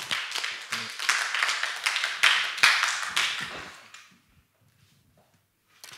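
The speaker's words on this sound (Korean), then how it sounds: "우리 박수로 맞이했으면 좋겠습니다." Audience in a church youth service applauds for about four seconds, a dense steady clapping that fades out, leaving near silence.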